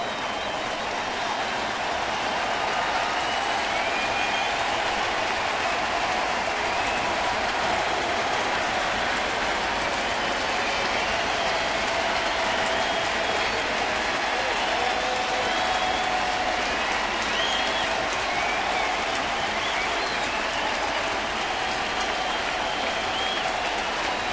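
A baseball stadium crowd roars and applauds continuously with the bases loaded, a dense, sustained wash of cheering that stays loud throughout.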